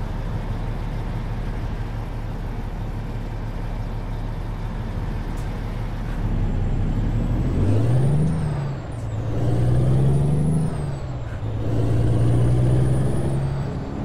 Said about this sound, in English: This truck's holding us up.